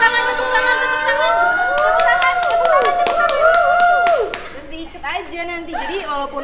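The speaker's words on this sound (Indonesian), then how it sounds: "Tepuk tangan, tepuk tangan, tepuk tangan." A small group claps hands in a quick, scattered burst of sharp slaps, with children and adults chattering and calling out over it throughout, then the clapping fades and talk continues.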